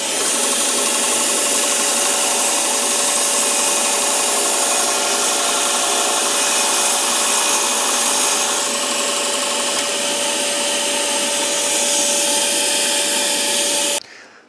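A Byrnes table saw trims a thin strip off a piece of wood, a loud, steady close-up whine with a sustained tone that cuts off abruptly near the end, with no talking.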